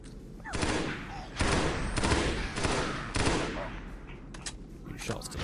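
Gunfire from the video game Halo: Combat Evolved (SPV3) against brutes comes in several loud, dense bursts separated by short pauses, with a voice talking partly over it.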